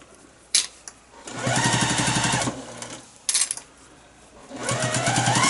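A sewing machine stitches a fabric face mask in two runs of steady, buzzing stitching, separated by a pause with a few clicks and fabric handling.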